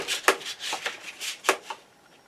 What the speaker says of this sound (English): I'm going to cut them both at the same time